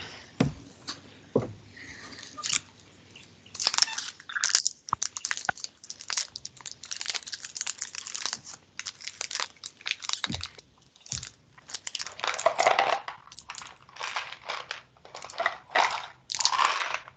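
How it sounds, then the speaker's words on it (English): Someone munches food right at the microphone on an online public meeting call, producing irregular bursts of loud crunching and chewing with short quiet gaps between them. "who's munching things?"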